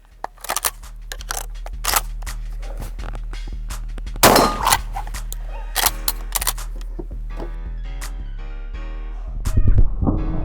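Buckshot from a shotgun test strikes an armored mannequin target, giving sharp metallic clangs and clicks at irregular intervals, with one loud impact midway, over a constant low hum.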